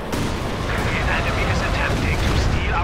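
An off-map artillery strike in Company of Heroes 2 lands as a dense, continuous roar of heavy blasts and rumbling, with a commentator talking over it.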